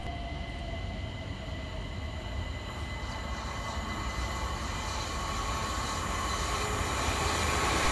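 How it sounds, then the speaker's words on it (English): A London Overground Class 378 electric train pulls into New Cross Gate station, a steady rumble of wheels and motors building gradually louder with faint rail squeal, heard alone without voices. "Arriving over on the far side for London Overground is 378143"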